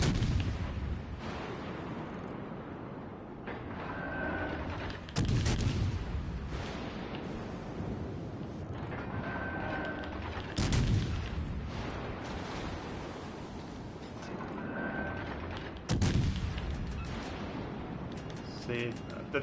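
Heavy naval gun salvos boom at intervals from a USN destroyer exchange in World of Warships Legends, sharp blasts with rolling rumble, over steady engine and sea ambience.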